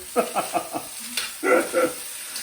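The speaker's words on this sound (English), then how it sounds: "So move it around, trying to keep it in the wok." Singapore noodles are stirred in a wok with a steady sizzle beneath them. A quick run of scraping strokes comes first, then a brief pause, then a few more tossing scrapes, all close and clear with no talking.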